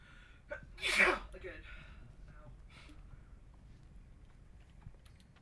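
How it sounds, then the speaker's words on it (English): One loud, close human sneeze with a sharp burst, followed by faint background noise and light rustling. "Every time I sneeze, it is excruciating."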